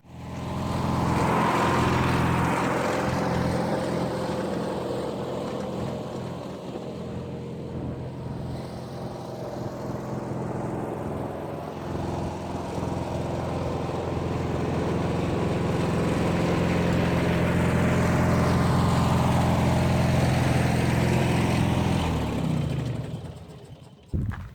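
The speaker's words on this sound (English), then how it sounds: "Let's hook it up to the tractor." A yard tractor's engine runs steadily while towing a yard cart trailer fitted with modified tires, a continuous low rumble that holds throughout and swells slightly near the end.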